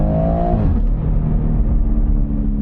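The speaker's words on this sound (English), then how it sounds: "you can definitely hear the intake more" Engine and aftermarket intake of a BMW M140i fitted with an M4 GTS bonnet, heard loud and close from inside the car, a rising rev that drops into a steady droning growl with a whooshing intake tone.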